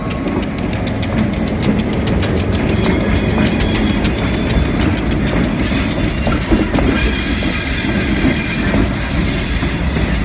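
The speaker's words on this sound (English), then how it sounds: "GLC 395 and 396 with 396 leading, departed Traverse City bound back to Cadillac." Great Lakes Central locomotives 395 and 396, with 396 leading, depart Traverse City, Michigan, bound for Cadillac: a loud, steady rumble of engines and rolling cars with rhythmic wheel clicks and brief high squeals, no talking.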